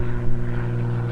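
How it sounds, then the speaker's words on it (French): Propeller airplane passing overhead: a loud, steady low droning engine rumble with a throbbing hum, continuous and close throughout. "il y a un avion qui passe."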